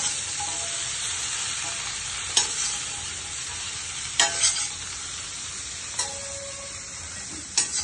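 Lotus pieces are stirred in a sizzling frying pan, a steady loud hiss of hot oil broken by several sharp scrapes of the utensil against the pan.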